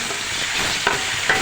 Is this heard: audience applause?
no